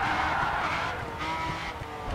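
A super touring race car in the racing game GRID 2 roars and skids with a continuous loud engine drone and tire scrubbing throughout.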